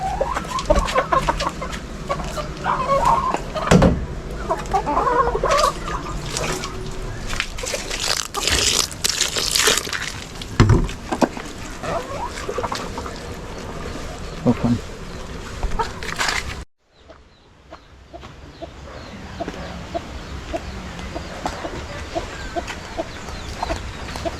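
Chickens cluck and squawk repeatedly close by over a busy outdoor background, with a brief drop to near quiet before noise resumes.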